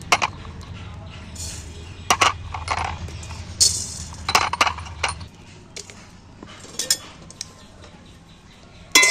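Coriander seeds and whole spices are tipped into a clean, dry kadai set back on the stove, making scattered bright clinks and rattles in small bursts, with a voice talking over them.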